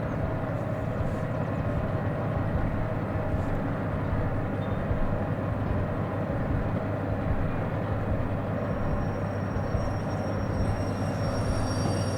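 A DE6 diesel locomotive in the video game Derail Valley rumbles steadily with a continuous low engine drone and rolling noise, unchanging and fairly loud throughout.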